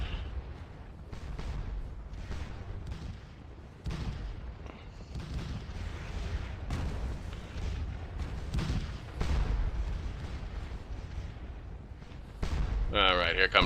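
Artillery guns firing in a war video game, heard as repeated booming blasts and rumbling explosions over a constant low battle din, with someone talking over much of it.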